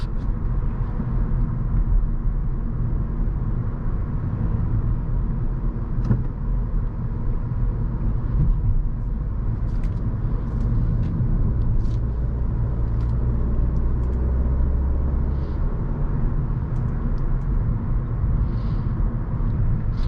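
A 2022 Kia K5 GT Line car drives steadily, with a constant low engine and road rumble and broadband tire hiss filling the cabin, heard from inside with no talking.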